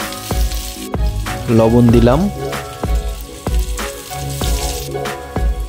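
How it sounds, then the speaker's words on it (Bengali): Chopped onion and chili sizzle loudly in hot oil in a wok, a continuous crackling hiss with occasional stirring knocks, while someone talks over the cooking. "পেঁয়াজ মরিচ তেলে ছেড়ে দিলাম"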